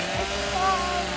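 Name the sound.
chainsaw cutting a log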